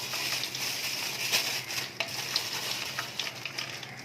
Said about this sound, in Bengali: তার সাথে দিয়ে দিচ্ছি অল্প 1 চামচ মতো আমি মৌরি